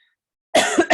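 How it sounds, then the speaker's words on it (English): A single hoarse cough with a short follow-up, close and loud after a silent start, from a woman still recovering from COVID. "I'm still really got that tiggly cough"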